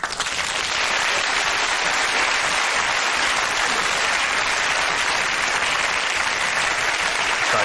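A TV studio audience bursts into sustained, dense applause that stays loud and even from start to finish, with no voices breaking through.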